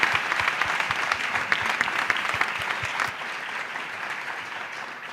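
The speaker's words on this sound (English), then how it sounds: "if we can put our hands together, for their contribution." An audience at a Freedom Day Q&A at the Apartheid Museum applauds its panelists. Firm, distinct claps sound over dense crowd clapping, then the applause settles into a softer, even patter toward the end.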